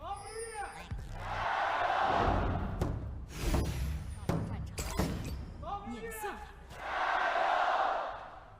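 Esports arena crowd in Xi'an at an LPL Summer Split match between Topsports Gaming and Team WE, roaring loudly in two long swells at the start and end, with busy commentary talk and thumps in between.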